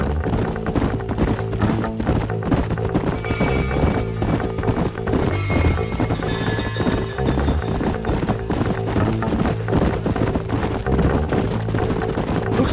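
Horses' hooves clip-clop steadily on a trail in the Red Dead Redemption video game, a continuous close rhythm under background music and ambient noise.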